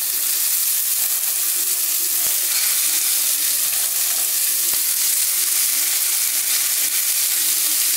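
Chopped okra frying in oil in a pan, making a loud, dense and constant hiss of sizzling close up, with a couple of faint spatula taps and no talking.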